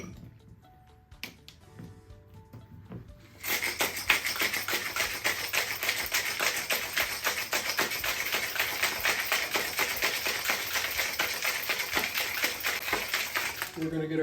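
A cocktail shaker packed with crushed ice being shaken hard while mixing a Hemingway Daiquiri: quiet sounds and a voice at first, then about eleven seconds of loud, fast, rhythmic rattling close by.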